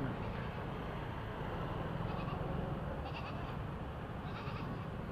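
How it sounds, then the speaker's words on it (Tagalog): A few short goat bleats come through faintly over steady, heavy background rumble, spaced about a second apart. "Ay, kambing, ay kambing. Ay, kambing."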